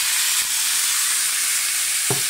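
Cardoon stalks hit a hot pan with chorizo and sizzle steadily, a dense frying hiss throughout with a couple of soft clatters as pieces land and get stirred, close and fairly loud.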